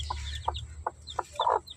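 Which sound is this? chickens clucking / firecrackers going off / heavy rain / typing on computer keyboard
chickens clucking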